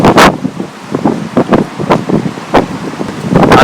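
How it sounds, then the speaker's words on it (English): Typhoon wind gusts buffet the microphone outdoors while signboards shake, giving loud irregular bursts of rumbling wind with rattling thumps at uneven intervals and no voices. "At this moment the wind is not so strong, but the signboard is shaking."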